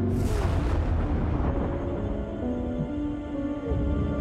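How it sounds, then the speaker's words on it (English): A heavy booming blast of cannon fire from an exploding ship in Uncharted 4: A Thief's End, then a sustained rumble with droning tones carries on loudly underneath. "Like the ship was exploding and it was still firing the cannons."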